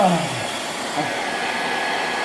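A hair dryer runs continuously to heat a phone screen for removal, a steady loud whooshing roar with a faint whine that stays constant throughout, with no talking.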